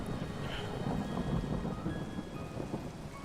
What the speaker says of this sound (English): let's just get rid of the storm, because it's really annoying me